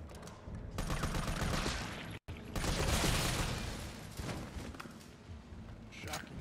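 Rapid gunfire from a Resident Evil 3 Nightmare Mode playthrough, dense sustained bursts filling the clip with one brief cutout midway, loud and close.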